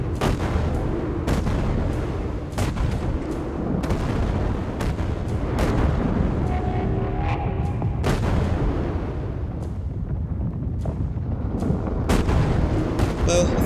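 Ship cannons firing in the video game Lost Skies, a rapid irregular series of sharp heavy booms, loud and close, with brief rumbling between shots.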